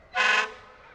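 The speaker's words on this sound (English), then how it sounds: "Always reminding you that they're here as well by honking their horns." A single loud horn blast, about a third of a second long, sounds from a utility truck rolling in a July 4th parade in Norfolk, then fades into a lingering echo.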